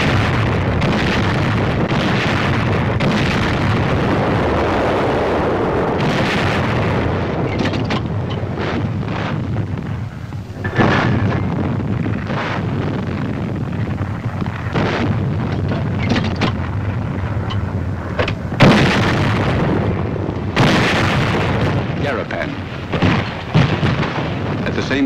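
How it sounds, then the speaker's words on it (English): Army artillery fires during the Battle of the Marianas near Garapan. Heavy, loud booms and blasts come repeatedly over a constant roar of wind-like rumble, with several sharp bursts standing out across the stretch. "Army artillery goes into action."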